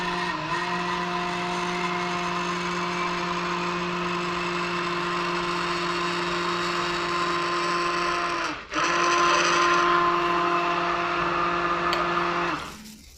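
Caustic soda being stirred into oil to make coconut soap gives a steady, continuous mechanical whir with no voices. It dips and cuts out briefly near the end, then resumes slightly louder before stopping.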